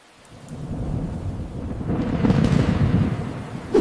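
Heavy rain pours down during a sudden June downpour, with low rumbling like thunder that builds steadily and stays loud and continuous throughout, with no voices.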